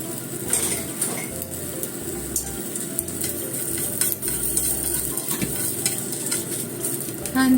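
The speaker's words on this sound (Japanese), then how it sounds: "何も引かないでちょっと軽く焼きます" Sliced cabbage and chikuwa fish cake dry-frying in a pan with no oil, a close continuous sizzle with stirring scrapes and light clinks of utensil against pan.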